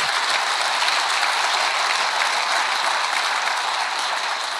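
A church congregation gives sustained, dense applause in praise during a pastors' retreat in Las Vegas. The clapping is steady and even throughout, with no talk over it.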